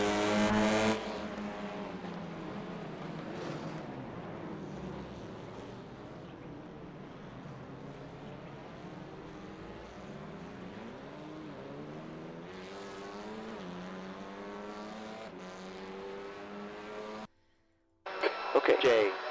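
TCR touring race cars in the iRacing simulator on the Charlotte Roval, their engines droning and shifting pitch steadily throughout while a commentator talks over them.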